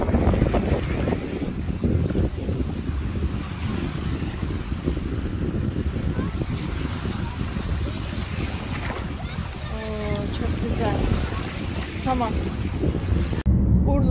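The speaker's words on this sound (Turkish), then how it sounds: "Deniz de burada." Sea beside Balıkova beach in Urla, heard as a steady wash of water and wind noise on the microphone, with a few faint voices in the background.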